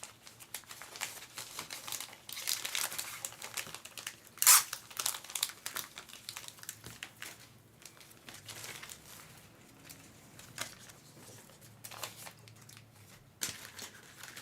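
A plastic bag crinkles and rustles as it is opened, with irregular crackling bursts and one sharp snap, close and moderately loud, with no talk over it.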